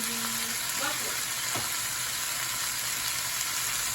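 Mushrooms stir-fried with cabbage and other vegetables in a pan, a continuous close sizzle with a couple of brief utensil clinks and scrapes near the start, no voices.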